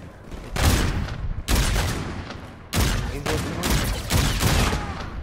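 Sniper rifle gunfire in Call of Duty: Infinite Warfare, loud bursts of shots and blasts in several dense clusters with a continuous roar of battle noise in between, no talk.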